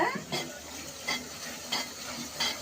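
Meat stirred and fried with chili and spice paste in a pan, a continuous sizzle broken by four rhythmic scraping stirs about every half second, close and alone.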